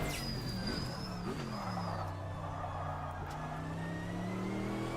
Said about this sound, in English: you heard the revs drop, right? That's the traction control cutting in